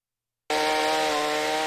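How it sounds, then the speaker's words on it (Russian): A chainsaw is dismantling a historic wooden bridge in Beloretsk, cutting through its timber. After brief silence the saw bursts in at full throttle, loud and close, with a steady high-pitched engine whine. "Бензопила проходит по дереву, как нож сквозь масло."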